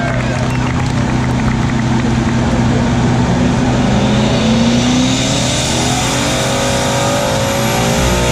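Ford Mustang Boss 302 engine at a car show, revving loudly and continuously with a rising pitch sweep, crowd noise and voices mixed underneath.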